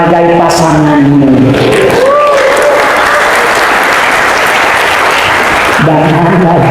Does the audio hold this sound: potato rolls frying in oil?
no